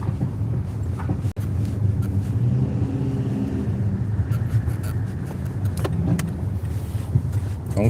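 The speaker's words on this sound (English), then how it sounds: "Don't try to pass me, car." A car rolls past on a small city block of Lehigh Avenue, a steady engine and tyre rumble with wind buffeting, filling the whole stretch at close range.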